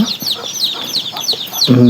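A mother hen of a native country breed clucks in soft, repeated notes close by, with chirping birds and ambient farmyard noise throughout.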